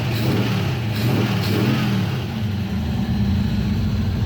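A ratty Ford Maverick V8 with a 4-speed, freshly revived with a Holley carburetor, runs steadily at a close, loud, even idle with a deep rumble and no talking over it.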